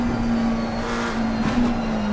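A GT3 race car at Suzuka drones with a steady, loud engine tone held throughout the short run, with a brief rise as throttle comes on mid-stretch.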